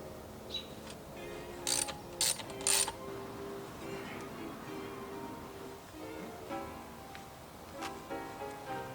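Allen key turning a wrench while installing a Kinetix Velocity intake manifold on an Infiniti G35 coupe, sharp metallic clicks and ratcheting scrapes in short bursts, close, with quiet clinks between.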